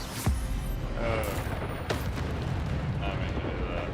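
Spell-casting effects from the video game Hogwarts Legacy, with sharp booming bursts over a dense, rumbling game soundscape and a few crackling, shimmering flourishes.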